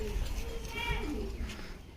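Red-tailed pigeons, young birds for sale, give soft low coos close by, with faint voices and handling noise in the background.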